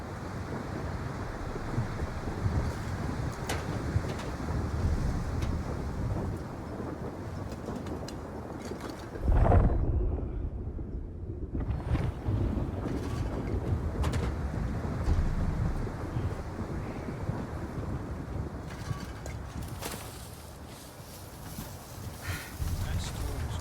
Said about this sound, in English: The sandstorm is getting worse.